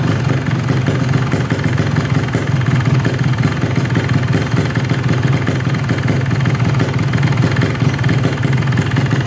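A Yamaha RX King two-stroke motorcycle idles steadily up close after a carburettor air-screw adjustment, a continuous buzzy low rumble with no revving and no talk.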